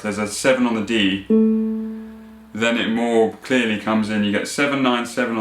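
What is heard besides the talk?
No everyday noise stands out behind the speech.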